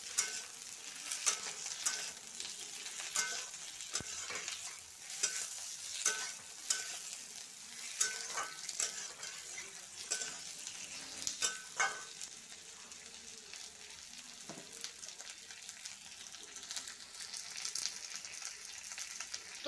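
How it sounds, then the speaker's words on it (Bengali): Onion, cauliflower, potato and tomato fry together in a pan with a steady sizzle, broken up by repeated scraping and stirring clatters over about twenty seconds, with no talking. "পেঁয়াজ, ফুলকপি, আলুটা আমি একই সাথে খুব ভালো করে ভেজে নেবো, কষিয়ে নেবো।"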